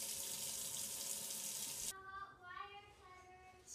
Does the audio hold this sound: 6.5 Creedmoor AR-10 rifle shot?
no